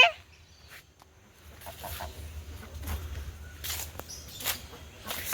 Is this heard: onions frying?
no